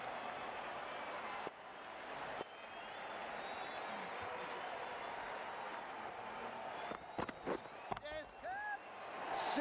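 A cricket crowd at a match between Dallas Classic Cricket and Brooklyn Beats applauds a shot, a faint, distant wash of clapping and cheering under steady outdoor noise, with a few sharper sounds near the end.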